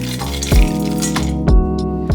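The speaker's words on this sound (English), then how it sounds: "Place a skillet over medium-low heat and add the cinnamon stick, rice, and almonds." Cinnamon stick, rice and almonds tipped into a skillet over medium-low heat, giving a few loud clinks and knocks against the pan over a steady background of hum and clatter.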